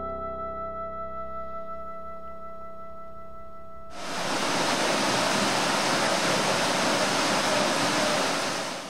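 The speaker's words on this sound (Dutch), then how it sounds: "De Grande Cascade de Tamerza is een prachtige waterval in de buurt van het dorp Tamerza" Grande Cascade de Tamerza, a waterfall near the village of Tamerza in Tunisia, surges in as a loud, steady broadband roar after a quieter, tonal opening, rushing continuously and close at hand.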